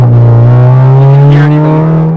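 Loud, close drone of a VW MK6 GLI's small turbo and exhaust running at about 10–11 PSI on an untuned setup, a steady throaty hum with a faint whine layered on top throughout.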